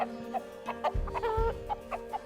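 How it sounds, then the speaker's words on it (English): A chicken in the Planet Zoo barnyard animal pack clucks in short, repeated bursts, with a few lower thumps beneath, moderately close over a steady game ambience. "chicken doing chicken things, basically, just strutting around"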